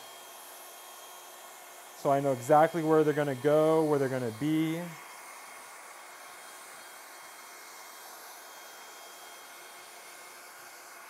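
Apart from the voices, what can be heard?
blow dryer running on cool setting during haircut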